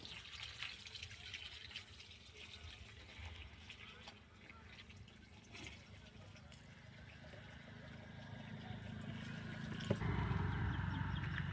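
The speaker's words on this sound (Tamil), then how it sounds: "நார்மலான தண்ணியை நம்ம விட்டுக்கிறோம்" Steady rushing and splashing of water pouring into an azolla farming bed, continuous throughout and growing slightly louder toward the end, with faint voices underneath.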